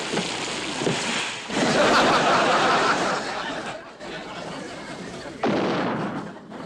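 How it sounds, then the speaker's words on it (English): A Japanese artillery shell bursts close by as a near miss in a wartime beach scene, a loud broadband blast that swells and rolls on for several seconds, then a second sharp burst near the end. "Skip, that was a real Jap shell. Yeah, it's a near miss"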